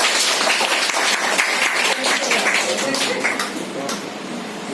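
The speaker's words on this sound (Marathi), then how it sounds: "एकदा सगळ्यांनी जोरदार टाळ्या वाजून सरांचं स्वागत कर" An audience at a birthday felicitation gathering breaks into loud, dense applause welcoming a guest, the clapping strong at first and then thinning slightly toward the end.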